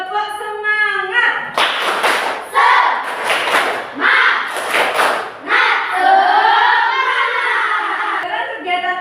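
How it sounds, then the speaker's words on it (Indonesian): A classroom of students performing a rhythmic spirit clap in unison, bursts of clapping and chanting voices in a patterned beat, loud and close, with sung or shouted calls between the claps. "kita lakukan dulu tepuk semangat"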